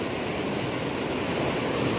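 A large, fairly clear river flows beside a forest camp, a steady broadband rush heard alone at moderate level throughout.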